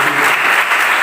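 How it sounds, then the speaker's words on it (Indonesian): A church congregation claps together during a Sunday service, a loud, dense burst of applause from a full room with no voices over it. "Berikan dulu tepuk tangan."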